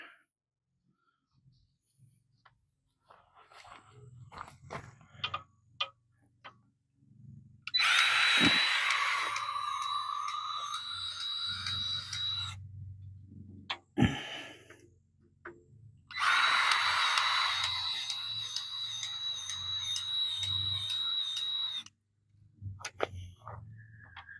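A grease gun pumped in two long runs, a whirring mechanical hum with a steady high whine, separated by clicks and handling noises.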